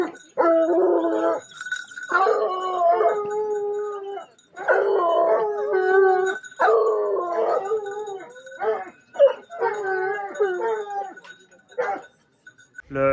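Hunting dogs out on a wild boar hunt howl and bay in long, wavering bursts, several voices overlapping, loud and near, with short gaps between outbursts.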